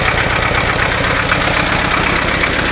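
An old-style Chinese diesel tractor engine runs just after a cold start, a loud, close, steady knocking idle with a rough rhythmic chug and no talking.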